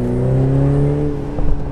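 A BMW Z4 engine in sport mode hums steadily up close, then a brief burst of overrun crackle pops near the end.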